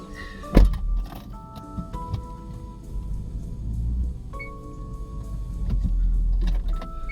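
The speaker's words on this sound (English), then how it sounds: "I need to drive the car a bit forward so I can open it on the back." A car moves a short way forward, with a low engine hum, a sharp thunk near the start and mechanical whirs, close by with no talking.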